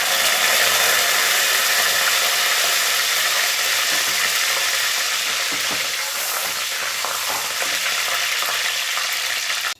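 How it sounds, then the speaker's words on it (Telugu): Curry leaves sizzling in hot tempering oil for gongura dal, a loud, steady crackling fry that holds for nearly ten seconds and then drops off abruptly, with no voices. "కరివేపాకు కూడా ఒక రబ్బ వేద్దామండి."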